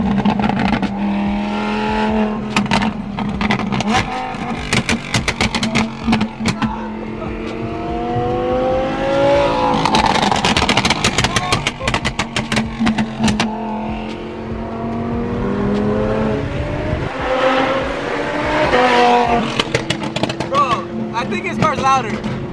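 A loud Lamborghini sports car revs with its exhaust popping and crackling while shooting flames, the roaring engine and sharp bursts heard up close under excited voices talking.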